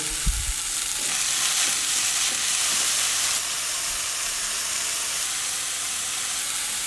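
Moringa leaves frying in hot oil give a continuous loud sizzle and hiss, with a few low clunks of stirring near the start.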